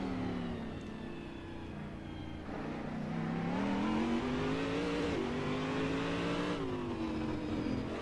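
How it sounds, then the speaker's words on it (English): The Corvette DP race car in Assetto Corsa holds a steady, grunty engine drone that swells through upshifts and rises in pitch, heard from the cockpit at moderate volume with no talk. "really nice grunty engine"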